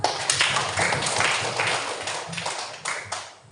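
A group of people applauding for a student in a classroom session gives a burst of dense clapping that starts strong and gradually thins and fades toward the end.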